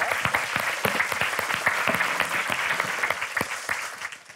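An audience claps after a talk on animal intelligence, a dense steady applause with a few sharper individual claps standing out, sustained for several seconds before tapering slightly at the end.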